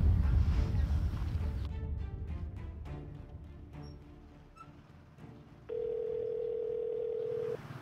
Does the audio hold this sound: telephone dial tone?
yes